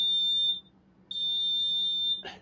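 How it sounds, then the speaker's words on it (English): A driveway alarm beeper sounds two long, shrill electronic tones separated by a short gap, loud and close, followed by a brief rustle. "that's my driveway beeper"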